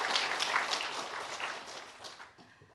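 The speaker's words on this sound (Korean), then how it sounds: "박수 한번 주세요" Audience applause in a broadcast studio during a charity campaign program, a fairly quiet patter of many hands that tapers off and fades toward the end.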